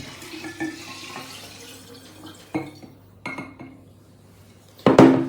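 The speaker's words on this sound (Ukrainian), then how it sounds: "Заливаємо спирту воду, готуємо спиртовий розчин." Water poured into pure alcohol to make a spirit solution for a galangal tincture, with soft trickling and several sharp clinks of glass and metal containers, ending in a louder clatter.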